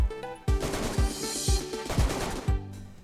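AK-74 assault rifle fire in the video game DayZ: five or six loud, evenly spaced single shots about half a second apart, each with a sharp crack and ringing tail, heard alone.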